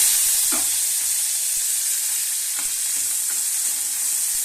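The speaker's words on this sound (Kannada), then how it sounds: "ಜೀರಿಗೆ ಚಟಪಟ ಅನ್ಬೇಕ್ರಿ ನೀರುಳ್ಳಿ ಹಾಕ್ತೀವಿ" Cumin and onions frying in a pan, a loud, close, steady sizzle with a few soft stirring scrapes and light taps throughout.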